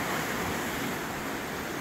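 Ocean waves wash against rocks at Nusa Lembongan, a steady broadband roar of surf mixed with wind rushing across the microphone, continuous and unbroken throughout.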